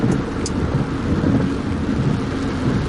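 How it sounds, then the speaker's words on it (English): A thunderstorm moving down a peninsula rumbles steadily with heavy rain, a loud, constant low roar throughout. "we have this storm that's been making its way down the peninsula"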